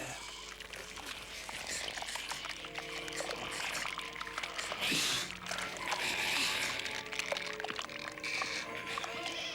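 Liquid glugs and splashes as it is poured through a funnel inside a prop head, a busy, fairly loud pour mixed with other clattering noise.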